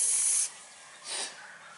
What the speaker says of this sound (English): Hit it with the penetrating oil.